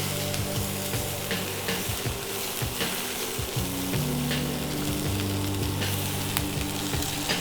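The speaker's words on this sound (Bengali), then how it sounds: "এটাকে স্টার ফ্রাই করব।" Boiled peas and French beans being stir-fried in a pan give off a steady close sizzle, with scraping stir strokes and small pops throughout and no voices.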